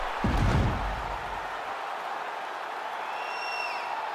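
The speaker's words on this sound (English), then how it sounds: "So the crowd voicing its appreciation after that round." A virtual arena crowd in EA Sports UFC 5 applauds after a round: a brief burst of clapping and a slam at the start, then a steady distant crowd murmur with a faint high whistle later.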